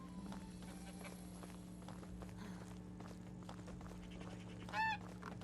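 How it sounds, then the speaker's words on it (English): A goose in the video game Medieval Dynasty gives one short, loud honk near the end, over a steady low game hum and soft hoof-like steps. "Geese."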